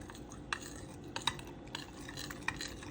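A spoon stirs spice mix with water in a bowl for chicken roast, soft swishing broken by a few faint, sharp clinks against the container, quiet and close.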